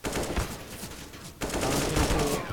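Rapid video game gunfire during a competitive esports gunfight in a 1v3 round, with bursts of shots fairly faint and a louder volley after a brief pause.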